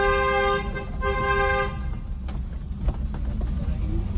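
A car horn blares in two sustained honks during a driving lesson in narrow lanes, then traffic and engine noise continue with faint clicks.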